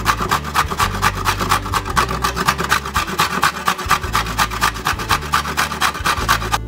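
Carrots are grated on the big-hole side of a box grater, a rapid, regular scraping rasp of strokes, close and loud, with a low hum underneath and no talking.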